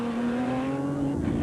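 Ron Brandt's off-road race car, at a desert race, roars nearby with a sustained steady engine drone that holds one pitch for the whole moment, with no talking.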